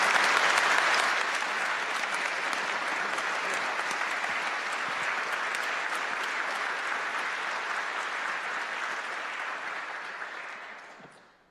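Full, dense audience applause after a discussion, loud and sustained for about ten seconds as a continuous wash of claps, then tapering off quickly at the end.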